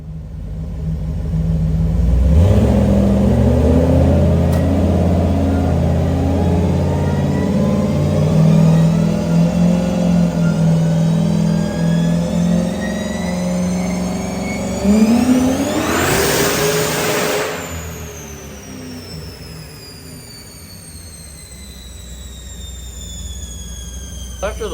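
A turbocharged rat rod with 16 psi of boost on 91 octane pump gas roars on a dyno, its engine note climbing steadily as it revs up, then surging sharply before easing back to a lower rumble near the end.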